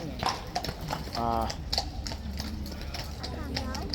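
Steady clip-clop of horse hooves on a hard surface at Horse Guards in London, close by, with a murmur of voices in the background.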